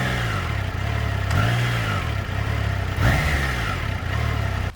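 A 2022 Triumph Tiger Sport 660 motorcycle engine revs up and down at low revs with ride-by-wire throttle, loud and close, its pitch rising and falling in repeated swells over a steady engine drone, with no talk.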